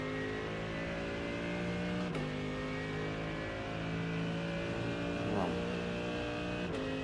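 Racing car engine sound from iRacing: a droning, revving motor with shifting pitch and a couple of sharp gear-change sweeps, fairly quiet, with a voice talking underneath.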